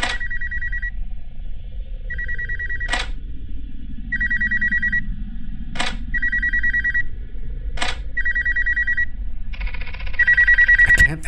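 A phone rings in a horror video game, with repeated double-trill bursts at a steady rhythm about every two seconds over a low ambient rumble. The final burst is louder and longer, and there is no talk.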